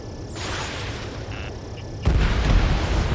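Explosions of destroyed targets in the jet combat game Ace Combat 7, a rumbling blast that swells and then a heavier, louder boom landing midway, over a steady engine roar.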